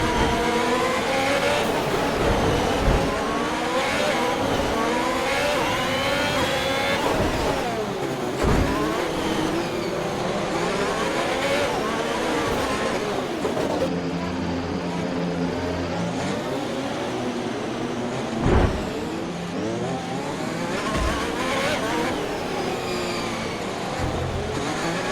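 A Formula 1 car engine from the F1 2021 video game on the Monaco circuit revs loudly and continuously, rising and falling in pitch through gear shifts and acceleration, with brief drops as the car downshifts.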